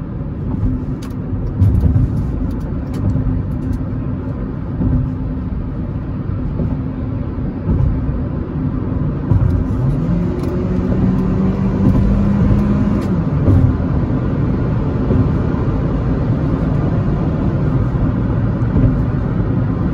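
Steady road drone from a Hyundai HB20 1.6 automatic cruising on a highway, with engine hum, tire and wind noise holding constant throughout and occasional higher whines rising and falling, no talking.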